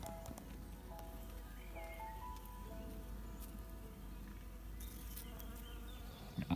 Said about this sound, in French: L'abeille vient d'aller chercher du pollen sur le coquelicot.